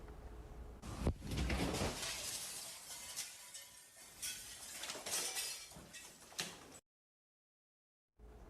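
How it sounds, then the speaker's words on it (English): Glass shatters and clinks inside a hurricane-damaged building, a sharp crash followed by sustained rattling, sliding debris and tinkling shards under a rough, windy roar before the sound cuts out. "just the sound of glass breaking"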